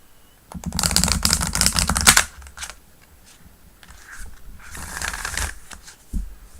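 A loud, brisk tarot card shuffle riffles for about two seconds, followed by quieter handling and a second softer burst of shuffling, close up.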